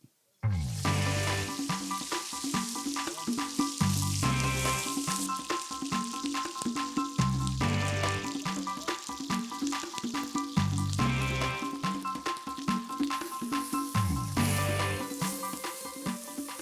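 Pork loin fat sizzles and crackles steadily in a hot, lightly oiled pan over very high heat, loud and close, with repeated stirring or scraping strokes cutting through at a regular rhythm and no talk.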